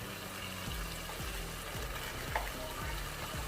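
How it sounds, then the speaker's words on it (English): Whole spices frying in hot oil for a biryani, giving a steady close crackling sizzle with repeated low thumps of stirring throughout, and no talk. "The aroma is coming from the whole spices as they are frying."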